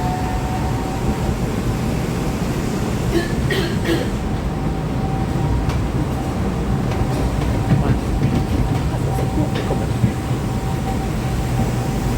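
Driverless Bangkok metro train running, a steady loud rumble with a sustained whine and scattered rail clicks throughout, with no voices.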